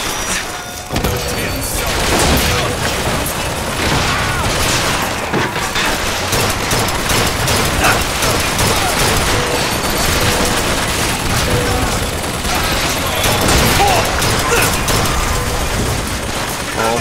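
Turret gunfire in Bioshock Infinite rattles on in dense, continuous bursts. Explosions and mechanical clatter sit underneath, loud and close through the whole stretch.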